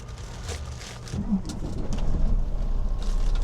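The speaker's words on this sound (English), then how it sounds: "Oh, truck started." A truck engine cranks and turns over about a second in, then builds into a steady, close rumble that keeps running. The setting is a trucker's cab where a microwave is on, and no one speaks.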